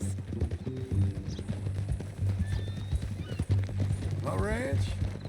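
Horse in the Red Dead Redemption 2 video game clip-clops with steady hooves and lets out a loud, rising neigh near the end, all under ongoing conversation and game music.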